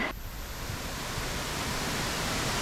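Large waterfall at Plitvice Lakes in Croatia, a steady, loud, broadband roar of falling water that continues unbroken at close range.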